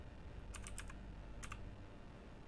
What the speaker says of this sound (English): I'm having trouble typing here.